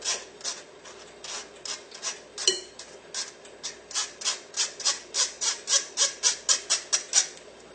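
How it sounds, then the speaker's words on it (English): A spoon back pushes cocoa powder through a mesh sieve, a steady series of soft rasping scrapes that quicken into an even rhythm, close and fairly quiet with no talk. "I'm going to grab the back of a spoon and just push all of that through"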